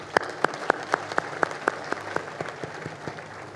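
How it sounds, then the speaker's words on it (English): Audience clapping at the AMACEA 21st plenary assembly, heard as a steady, evenly spaced series of about a dozen sharp claps, near and fairly clear, with no talk over it. "We give a round of applause."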